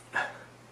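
A single short dog bark rings out indoors in a house, brief and moderately faint, with no talking around it.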